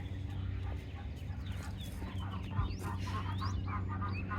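Ducks let out of a barn on a farm quack and call repeatedly at a moderate distance, with mixed calls overlapping against a steady low hum and farmyard background.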